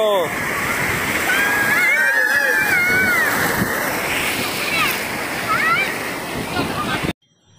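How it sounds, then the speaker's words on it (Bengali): Heavy waves break and surge close by at Digha beach in a loud, sustained roar of surf, with several voices shouting over the water before it cuts off abruptly. "রীতিমতো এত কাছেই যদি এত ঢেউ আসতে থাকে"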